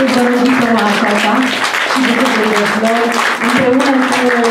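Loud, continuous audience applause for a ballet teacher at a dance ensemble's spring show, dense clapping throughout with a sustained voice or music tone running over it.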